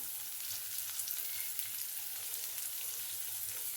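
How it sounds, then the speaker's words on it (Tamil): Onions and green chilies with salt sautéing in a pan, a steady close bright sizzle that holds evenly throughout, with faint stirring and no voices. "நம்ம இப்போ இந்த டிஷ்ஷுக்கு தேவையான உப்பு போட்டு இதை வதக்கி எடுத்துடலாம்"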